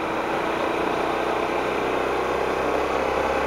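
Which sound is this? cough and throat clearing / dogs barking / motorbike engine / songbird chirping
motorbike engine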